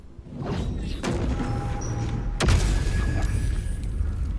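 A Glyph of Warding Fire spell triggering in the video game Baldur's Gate 3, with a low boom and thud followed by a whooshing burst and a lingering fiery rumble.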